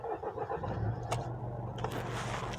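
A Mercedes E-Class engine idles very quietly, heard as a soft, steady low hum with a few faint clicks and rattles on top.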